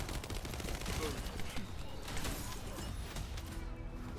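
Sustained gunfire in the video game The First Descendant rattles in rapid, dense bursts, a busy mid-level barrage with crashes and mechanical clatter mixed in.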